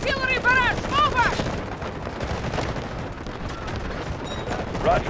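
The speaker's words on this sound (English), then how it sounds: "Requesting artillery barrage! Over!" Artillery barrage in the video game Delta Force: dense rolling explosions and rapid gunfire rumble continuously for five seconds, with a radio-style voice talking over the first second.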